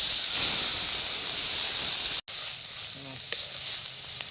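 Chopped onion and onion paste hit hot oil for a Bengali crab curry, giving a loud, dense hiss that cuts out briefly halfway, then returns softer and steadier.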